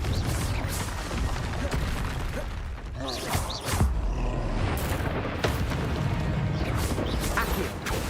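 Repeated blasts and booming impacts from the Confringo fire spell in Hogwarts Legacy during a fight against a guardian, several heavy bursts layered with creaking, crashing debris and no talk.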